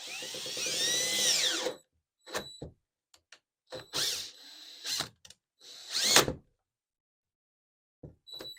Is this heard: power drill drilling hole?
yes